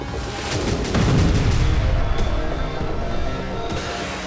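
Heavy artillery-style blasts from Bradley fighting vehicles and HIMARS strikes in the Ukraine war rumble loudly, with a dense booming roar swelling in the first seconds and then a sustained echoing rumble.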